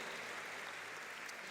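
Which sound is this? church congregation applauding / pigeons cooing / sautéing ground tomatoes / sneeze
church congregation applauding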